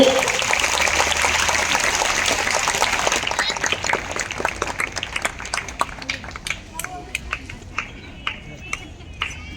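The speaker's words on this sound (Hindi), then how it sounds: "जोरदार तालियों से स्वागत हो।" A crowd applauds at a gathering to welcome a revered guru; dense clapping that gradually thins out into scattered individual claps by the end, with voices talking underneath.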